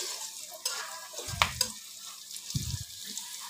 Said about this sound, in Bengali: পেঁয়াজটা আমি একটু লালচে করে ভেজে নেব, সে পর্যন্ত অপেক্ষা করছি।